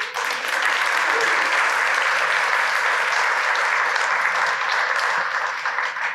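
Sustained audience applause fills the room for about six seconds, dense clapping with a few faint voices mixed in, steady and loud throughout.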